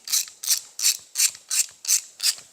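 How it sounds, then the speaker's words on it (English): A bolt spun through a small hole in a cable-holding piece gives seven quick, even ratcheting clicks, evenly spaced and close up, with no talking. "It's a pretty small hole, so we'll spin it through there"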